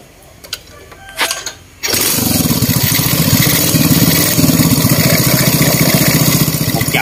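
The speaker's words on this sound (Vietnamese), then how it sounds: "Bây giờ mình nổ máy" A rebuilt single-cylinder Yamaha Win motorcycle engine, tested in place, gives a few quiet clicks and cranks, then catches at about two seconds and settles into a loud, steady, rapid idle that keeps running.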